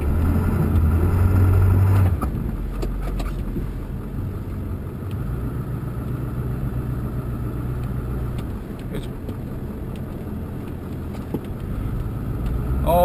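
Ford F250 truck with a 7.3L engine pushing a light plow through snow, its engine droning steadily and close throughout, louder for the first two seconds and then settling into an even rumble.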